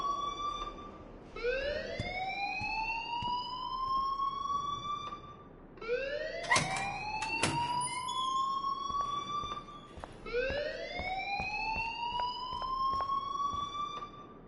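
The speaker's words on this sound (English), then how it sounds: "please turn off that alarm since that's your job." An alarm in the Life Is Strange video game wails in repeated rising sweeps, three long cycles at moderate loudness with sharp clicks between, no talking.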